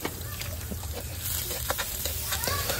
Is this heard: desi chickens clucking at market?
no